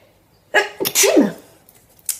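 A single sharp sneeze, close and loud, preceded by a quick breath in.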